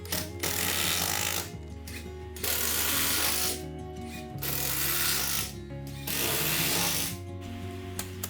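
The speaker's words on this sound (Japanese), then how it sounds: "ビスだけはしっかり留めておきます。" Screws are driven into a wooden stair tread with a power driver, making loud whirring bursts of about a second to two seconds each, repeated four times and separated by short breaks.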